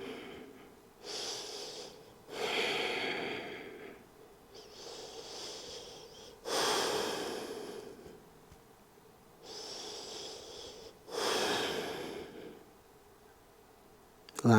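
Slow, deep breaths taken during a yoga pose, about six long airy inhale and exhale swells spaced a couple of seconds apart, close and fairly soft with quiet pauses between.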